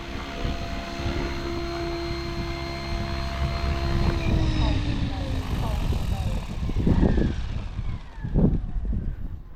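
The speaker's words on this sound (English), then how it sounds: "I really do like flying this helicopter." A radio-controlled model helicopter's rotor and motor whine steadily, shifting in pitch as it manoeuvres close by through flips and loops, with a voice talking over it.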